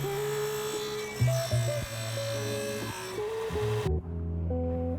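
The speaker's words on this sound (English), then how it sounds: "I take it to the disc sander to finish the job" A disc sander grinds a forged knife blank with a steady, close motor whine whose pitch shifts as the steel is pressed. It cuts off abruptly near the end, leaving a quieter hum.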